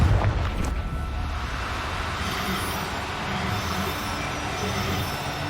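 A Confringo explosive spell going off in Hogwarts Legacy, a loud blast that settles into a dense, sustained rumbling roar with a sharp crackle at the start.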